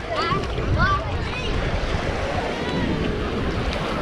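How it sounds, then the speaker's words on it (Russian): Offshore wind buffeting a microphone on a crowded Vitiazevo beach by the sea, a continuous rumbling roar mixed with surf and distant voices. "Сейчас ветер, кстати, дует"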